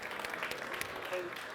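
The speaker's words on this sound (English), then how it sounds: "A round of applause for Bibi." Audience at a fireside stage event applauds for Bibi, a short, fairly faint patter of clapping with a voice talking over it.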